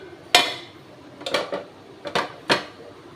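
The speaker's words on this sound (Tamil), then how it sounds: "இப்போ ஒரு பிளேட்டில் ஆட் பண்ணிக்கலாம்" A homemade rava (semolina) cake is set down onto a plate, giving several sharp clinks and taps of a knife and plate, spaced across a few seconds, close and clear with no talking.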